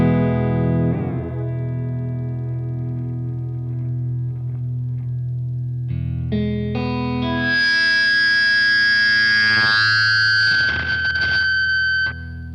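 A vintage Maxon AD-80 analog delay pedal in self-oscillation produces loud sustained droning tones that shift pitch, then swell into a rising, wavering howl with warbling repeats before cutting off, heard alone.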